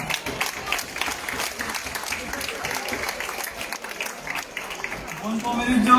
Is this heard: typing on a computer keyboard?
no